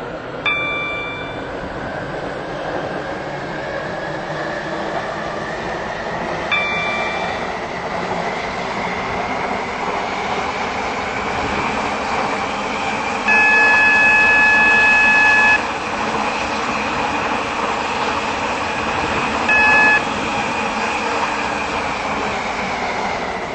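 A Stepford Connect train runs in the Roblox Stepford County Railway game, a steady droning rumble of the moving train with several short horn toots and chime tones over it, with no talking.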